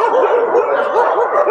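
Many dogs bark and yip continuously together at a dog shelter in Thailand, a dense, loud and overlapping chorus with no pauses.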